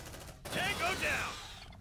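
Rapid video-game gunfire bursts in a chaotic firefight, loud and close, mixed with a shouted voice over dense crackling shots.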